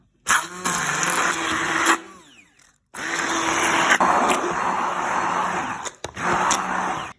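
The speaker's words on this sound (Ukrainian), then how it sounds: "І тепер перебиваємо добре блендером." A blender whirs loudly in three bursts, dropping briefly between them as it purees thick pumpkin pulp up close.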